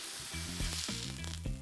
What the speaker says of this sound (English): Time to fry it.